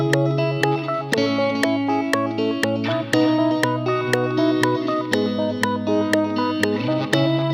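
Synthesized game music with a steady beat and layered melodic tones, played with heavy reverb and effects that give a washed, echoing tail, with no voices over it.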